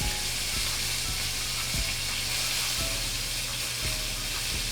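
New York strip steak searing on its edge in a hot pan: a constant, dense sizzling hiss with faint spattering pops, close and steady with no talking.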